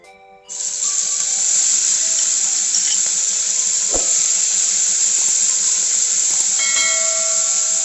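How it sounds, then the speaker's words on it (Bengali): Fish pieces dropped into hot oil in a kadai: a loud, steady hissing sizzle bursts in after a brief quiet moment and continues strongly, with a single soft knock partway through. "এবার আমি মাছগুলো দিয়ে দিচ্ছি কড়াইতে।"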